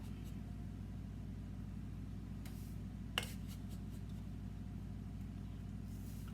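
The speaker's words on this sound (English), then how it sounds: "That noise you hear is my oven." A kitchen oven running as supper is being made, giving a steady low hum that stays even throughout, with a single brief click partway through.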